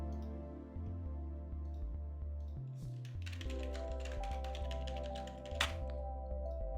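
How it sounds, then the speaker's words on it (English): Quick bursts of computer keyboard typing during a coding session, clicking keys set against steady tonal background music that runs throughout. "Gotten really good at typing that really quickly."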